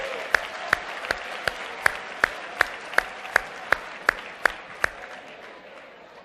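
Sharp, evenly spaced claps ring out in a slow steady rhythm, about a dozen in all, over a soft background murmur of a seminar audience before they stop.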